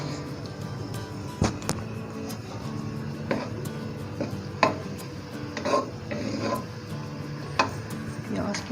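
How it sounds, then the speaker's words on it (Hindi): Onions go into a pan for masala with a soft sizzle, while a utensil stirs and scrapes, making irregular clinks and knocks against the metal at close range. "मसाला तैयार करने के लिए प्याज डाल दिए मैंने।"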